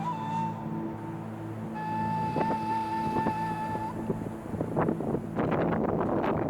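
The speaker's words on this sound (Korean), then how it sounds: "바람이 세차게 불어 그 바람을 피해 동굴로 들어갔다" Strong wind gusting across an open rocky hillside of rock carvings in Azerbaijan, a rough, steady rumble buffeting the microphone, with a thin whistling tone cutting through midway.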